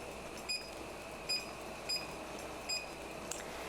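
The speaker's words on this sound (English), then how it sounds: "the timer has gone off, 13 minutes has passed" A kitchen timer beeps in short repeated bursts, four evenly spaced chirps over a steady background hum, fairly close and moderately loud.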